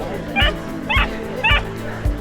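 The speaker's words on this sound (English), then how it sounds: "Dog enjoying himself." A small, enthusiastic dog barks four times at a parkrun on a playing field and meadow, sharp evenly spaced yaps close by over steady background crowd murmur.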